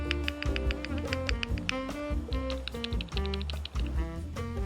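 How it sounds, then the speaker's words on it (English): Steady typing on an entry-level aluminum gasket-mounted JRIS65 custom keyboard in Milky White with a silver back piece, a rapid run of crisp, even keystroke clacks heard close and clean, with no voices. "It's an entry-level aluminum keyboard that's also gasket mounted,"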